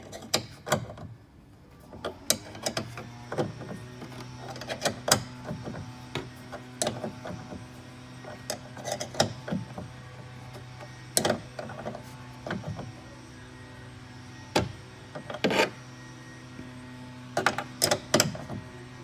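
A wrench works a bolt on the window motor inside a Lotus Evora door, giving repeated ratcheting clicks and sharp metallic taps in irregular bursts over a low steady hum, close and moderately quiet.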